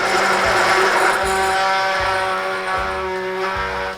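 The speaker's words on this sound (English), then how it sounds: "I'm gonna use an immersion blender and viciously turn them into one big egg." An immersion blender whirs steadily as it blends eggs into one mixture on a cooking competition set, a continuous loud motor drone with slight pitch shifts across four seconds, no voices over it.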